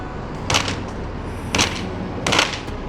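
Firecrackers set off near a building at a park, giving three sharp, crackling bursts about a second apart over a steady outdoor background hiss.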